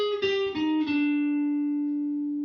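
A single electric guitar note, recorded with a room microphone only, rings out with a few quick picked attacks at the start, then sustains and slowly decays with a roomy, open tone.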